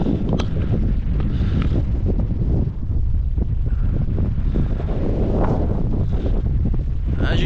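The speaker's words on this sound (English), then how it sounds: "As you can hear, it's a very windy day." Strong wind buffets the microphone at the top of Edge Hill by the woods, a steady loud roar with heavy low rumble and gusting surges throughout.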